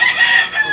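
A rooster at a poultry market in Tabunok, Cebu, lets out a short, loud, close crow, a single strained call with no talk over it.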